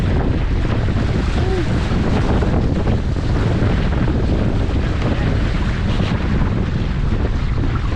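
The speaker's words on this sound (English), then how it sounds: "We have a little gust." A steady roaring wind gust buffets the microphone aboard a sailboat over open water, a dense rushing noise that holds loud throughout with no pause.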